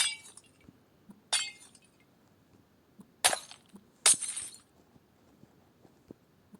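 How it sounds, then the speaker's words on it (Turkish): Glass panes shattering inside Minecraft on a Mars surface map, several sharp bright breaking crashes in quick succession over a quiet background, with no talking. "Şuradan camı kırarak çıkabilir miyim?"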